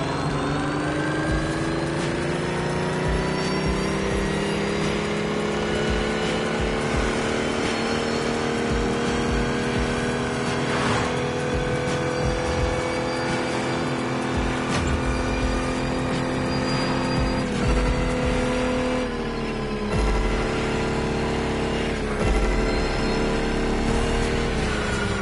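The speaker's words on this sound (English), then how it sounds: "And Kai got you your next killer partner, a 1970 Dodge Challenger" A 1970 Dodge Challenger in The Crew Motorfest racing game roars with a loud, continuous engine drone, its pitch rising and falling through gear changes and revs for a long stretch, with no talking.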